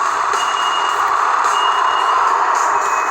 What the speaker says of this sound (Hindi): ये जो आवाज़ आ रहा है मित्रों आपको, वो आ रहा है बाजू की जो कार्स होती हैं वैसे उनका आवाज़ आ रहा है